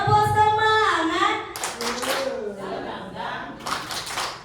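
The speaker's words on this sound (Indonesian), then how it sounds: "Tepuk semangat dulu lah ya. Tepuk semangat." Group rhythmic spirit clapping in an Indonesian classroom or workshop session, short bursts of claps alternating with sung or chanted voices, close and lively.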